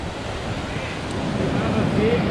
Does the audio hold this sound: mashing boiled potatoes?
no